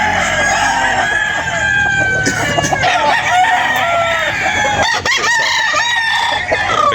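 A rooster crows loudly and close at a Philippine poultry market, with several drawn-out harmonic calls overlapping amid steady crowd chatter and background clucking.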